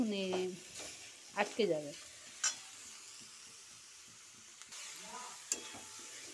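Coconut chunks being stirred in a pan with melting date jaggery, with faint sizzling and a few scrapes of a spoon, quiet and close, plus brief speech at the start.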